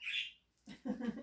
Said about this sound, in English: I gotta get the bird.